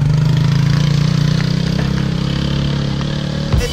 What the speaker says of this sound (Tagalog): Kasi may mga dumadaan din palang mga motor.